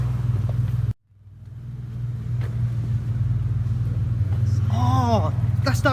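A classic BMW car engine idles with a loud, steady low rumble in a barn in London, briefly cutting out before building back up and holding, while people talk over it near the end.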